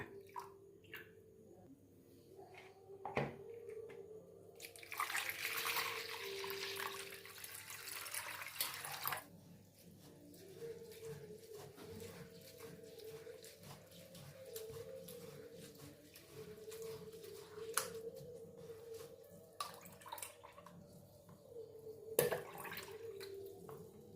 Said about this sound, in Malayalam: ഇതൊരു രണ്ട് മൂന്ന് വെള്ളത്തിലൊന്ന് കഴുകണം